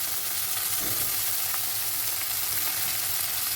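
Chopped brinjal and potato fry with lightly browned onion in a pan, giving a steady close sizzle with faint stirring scrapes throughout.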